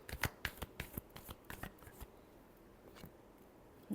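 Tarot cards are shuffled by hand in quick, crisp riffles and taps close by. The bursts come fast at first, then thin out into a few softer flicks and a final knock.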